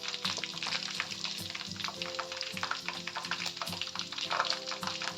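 Chicken pieces frying in very hot oil, a steady close sizzle with bubbling crackle and occasional stirring scrapes, running continuously with no voices.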